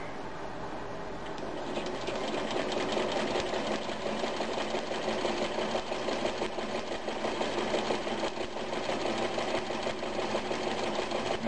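Vintage Kenmore 148 14220 sewing machine stitching a zigzag stitch, a close, loud, rapid mechanical whirring clatter that starts after a quieter moment and runs steadily to the end.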